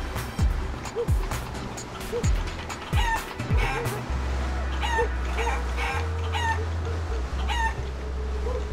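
Cartoon chicken clucks and squawks from the video game Guacamelee! come in quick repeated bursts over booming game music and sound effects, with a rooster-like crow near the start.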